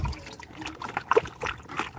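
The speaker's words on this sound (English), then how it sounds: "Taylor, put it on the setting that says shower." A spray nozzle on its shower setting rinsing a gold pan, giving a brief, fairly close patter and trickle of water with a few small splashes.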